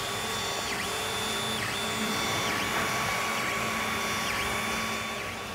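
A 3D printer printing a Faiz Axel watch, giving a steady mechanical whir with repeated sweeping, whining motor tones as the head moves back and forth; no talking.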